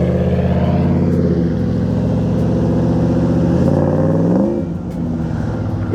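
A 2017 Jeep Wrangler Brute double cab rumbles past up close, its engine and exhaust droning loudly with rising and falling revs before easing off near the end.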